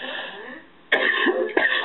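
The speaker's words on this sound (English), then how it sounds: "I don't know what's going on with my cough" A harsh, close cough bursts out after a brief quiet, followed by a second throaty cough and some throat clearing.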